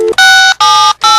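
A telephone is dialed: a short low tone, then three loud, clear touch-tone beeps in a quick, even sequence.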